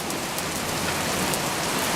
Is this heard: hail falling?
yes